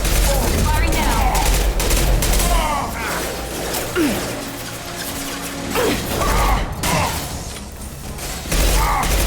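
Sustained gunfire in the video game Mass Effect 2 crackles continuously with dense, rapid shots and mechanical clatter, loud throughout, with occasional voices faintly under the shooting.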